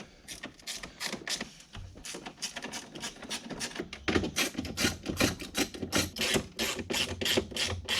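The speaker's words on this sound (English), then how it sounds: "Get your ratchety spanner and" A ratchet spanner undoes 10mm bolts on a Suzuki Every turbo van, making close, fast runs of clicking pawl ticks that come in bursts and grow louder and quicker partway through. Nobody speaks.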